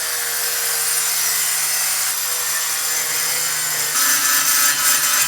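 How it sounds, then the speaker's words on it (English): An angle grinder cuts through shower tile freehand with a loud, continuous, high whine. The pitch drops partway through and then rises again as the blade works the cut, and no one speaks over it. "Once you're used to the grinder, after a couple of cuts, you can just go freehand."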